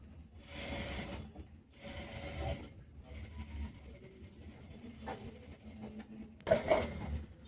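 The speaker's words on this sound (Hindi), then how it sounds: "सिलाई पहले किनारे पे लगाएंगे।" A sewing machine stitches along the edge of stretchy cargo pants fabric in several loud whirring bursts separated by brief pauses, followed by quieter mechanical handling and a sharp clack near the end.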